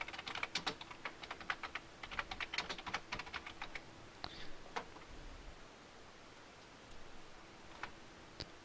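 Quick bursts of typing on a computer keyboard, close clicking keystrokes in irregular runs, thinning to a few scattered taps and pauses toward the end.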